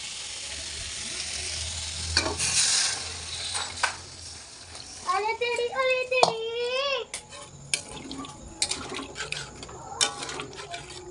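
Water poured into a hot pan of egg curry made with omelette pieces, hissing and sizzling loudly with stirring clatter, brief bubbling bursts and faint background sounds.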